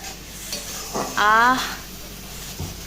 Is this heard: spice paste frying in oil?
yes